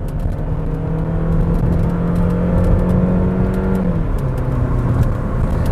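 A Suzuki Grand Vitara engine revs hard under acceleration, a loud close drone climbing steadily in pitch up to redline, then dropping as it shifts and settles into a lower pull.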